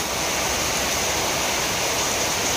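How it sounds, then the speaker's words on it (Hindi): Floodwater rushes through a village after a storm, a loud, steady broadband wash of flowing water that fills the whole moment without pause and with no voices. "ये तो हर जगह पूरा पानी पानी हो गया।"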